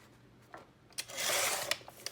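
A sheet of cardstock for a junk journal page is cut with a brief swishing slice, framed by small taps and paper rustles, soft and close in a quiet room.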